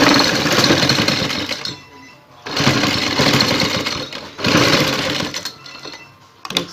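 A sewing machine stitches the neckline of a kameez in loud, close bursts of rapid mechanical whirring, three long runs separated by brief pauses, with no talking.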